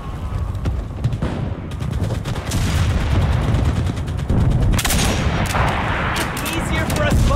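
Artillery fire in the Enlisted video game, a loud continuous barrage of gunfire and heavy booms with rapid shots layered throughout, with voices shouting under the din.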